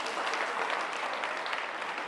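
Audience at a bank employees' federation women's convention clapping, a dense, even burst of applause from many hands.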